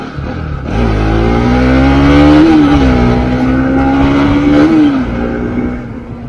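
A motorcycle engine revs up loudly and close after refuelling at a petrol pump, climbing in pitch, holding a strong steady drone, then easing off and rising again, with no talk over it.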